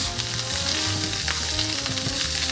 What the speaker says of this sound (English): we're gonna render out and brown all this freaking andouille